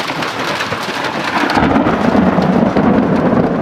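Loud thunder rolls through a heavy storm, a deep rumble building and holding over steady hissing rain close by, with no voices.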